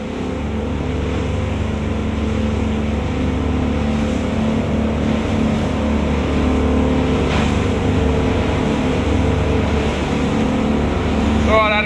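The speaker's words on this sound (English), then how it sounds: "how well these Outlaw boats perform on the water" An Outlaw 9100 boat powered by twin 350HP Suzuki Duoprop outboards runs at speed with a loud, steady engine roar and water rush throughout. A brief splash comes near the end.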